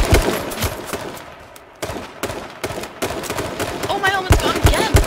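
Rapid gunfire in the battle royale game H1Z1, a two-player match, with bursts of shots cracking repeatedly through the clip under excited player speech.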